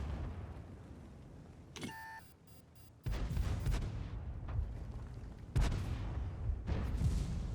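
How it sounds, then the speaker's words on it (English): Heavy artillery impacts in the World of Tanks tank game: a few deep booms at separated moments with short electronic beeps between, close and loud against a low rumbling background, no speech. "We are going to get stunned by artillery."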